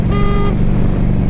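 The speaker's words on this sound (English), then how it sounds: "Listen to how loud this horn is. It's like a car." A 2003 Harley-Davidson FLHTP police motorcycle sounds a single loud, car-like horn blast of about half a second over the low rumble of its idling engine, which continues steadily after the horn stops.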